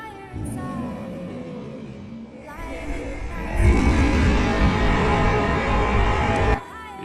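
Slowed-down sound effect resembling a huge dragon, a deep rumbling roar that swells and grows louder toward the end before cutting off abruptly.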